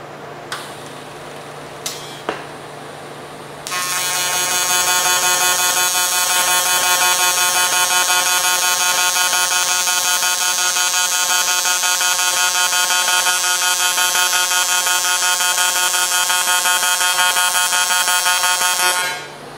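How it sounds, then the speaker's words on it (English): An AC pulse welder running on aluminum starts up after a couple of short ticks and then gives off a loud, steady, harsh electrical buzz, like a horn, that holds for about fifteen seconds before cutting off. "set up for, of course, AC, for aluminum welding"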